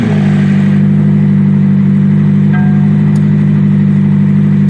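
A McLaren 570S sports car, modified with a loud turbo and exhaust, fired up with its start button, its engine rumbling loud and close in a steady, continuous idle with no voices.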